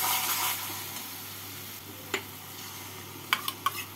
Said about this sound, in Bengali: এবার এর মধ্যে দিয়ে দিচ্ছি আমি 1/2 কাপ ফেটানো টক দই